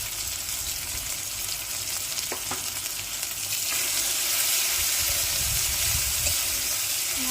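Ground spices with salt and turmeric fry in a pan for a mustard hilsa curry, giving a continuous close sizzle that thickens and grows slightly louder partway through, with a few light clinks and no talking.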